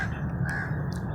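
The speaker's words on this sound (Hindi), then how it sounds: "कौवे काएं काएं करते फिर रहे हैं।" Crows cawing among morning birdsong in a park, two short harsh caws standing out over steady background chatter and ambient noise.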